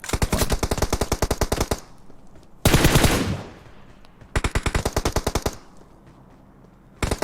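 Automatic gunfire in PUBG Mobile comes in rapid, rhythmic bursts with clear gaps between them, loud and close. One longer noisy blast sits between the bursts, and another volley starts at the very end.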